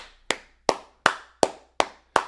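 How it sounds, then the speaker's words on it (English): Six crisp, evenly spaced hand claps ring out alone at a steady rhythm, each close and sharp with a short decay. "Clap it up to Coach Prime."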